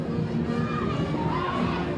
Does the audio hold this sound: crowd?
yes